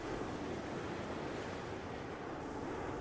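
Sea waves wash in a steady, broad roar, with a windy, rushing texture and no voices.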